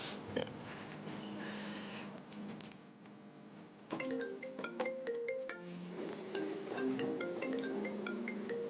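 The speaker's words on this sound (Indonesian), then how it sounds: "Gue angkat telepon dulu ya." A phone ringtone plays as a melodic run of bright electronic notes, starting midway after some low snorting and breathing noises, moderately loud and close, with no talking.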